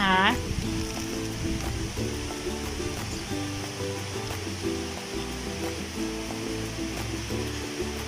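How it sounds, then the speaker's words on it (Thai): Rain falls steadily outdoors, making a continuous soft hiss and patter under a nearby voice that keeps going throughout. "ฝนกำลังตกเลยนะคะ"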